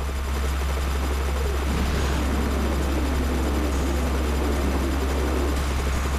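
Helicopter in the video game Front Mission 3, a loud continuous rotor and engine drone with a steady low rumble throughout, heard alone.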